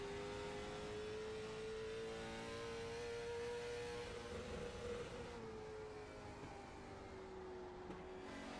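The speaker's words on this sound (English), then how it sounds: "Christopher Smith rolling off pit road to start his qualifying effort as well" A race car in a sim racing game rolls off pit road at USA International, its engine droning steadily and slowly rising and falling in pitch, heard alone at moderate level.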